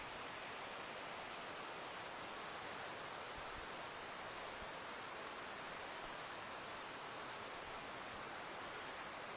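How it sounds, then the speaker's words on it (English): The Findhorn River rushes through a gorge with small rapids, a steady broadband roar of flowing water close by and continuous for the whole stretch, with no voices. "we're going to get the great view of the river, and you can hear it."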